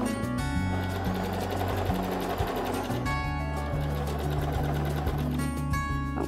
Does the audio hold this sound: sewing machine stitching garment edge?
yes